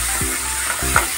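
Spice paste frying in a pot for Mughlai bhetki is stirred, two low scraping strokes of a spoon over a constant bubbling sizzle, close and fairly loud.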